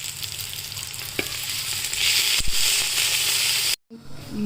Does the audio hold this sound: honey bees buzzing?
no